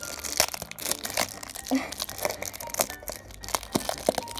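Taped plastic and cardboard toy packaging is torn and crinkled open up close, a string of short ripping and crumpling bursts in an uneven rhythm.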